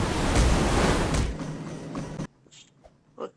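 Tsunami waves rush in during a video game, a loud, roaring surge of water and wind-like noise that fades after about two seconds, then cuts to near quiet with a few faint sounds.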